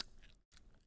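A crunchy tarantula being chewed in the mouth, making two short bursts of close, crisp crunching separated by a brief silent pause, with no talking.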